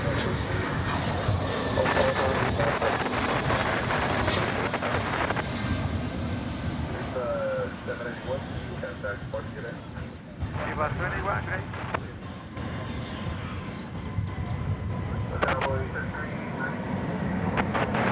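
An American Airlines Airbus jet arriving from San Diego at DFW Airport at night, with a sustained roar of engines and wind buffeting the microphone while a voice talks throughout.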